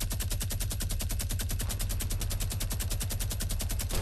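Rapid automatic gunfire in a multiplayer shooter video game, a fast, evenly spaced stream of loud shots rattling without pause, close and continuous.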